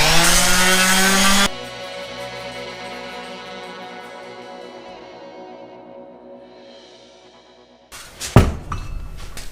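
Angle grinder fitted with a 120 grit sanding disc smoothing the drum of a painted Honda CB500 café racer motorcycle wheel, a loud burst of whining tone that drops to a steadier, quieter grinding hum, then a few clunks and scrapes as it stops.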